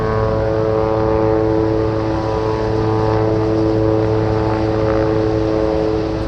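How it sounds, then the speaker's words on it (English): Dash 8 turboprop taxiing at Anchorage airport toward the takeoff runway, a loud steady propeller drone with layered tonal hum holding constant and close throughout. "We also have a Dash 8 taxiing for the takeoff runway."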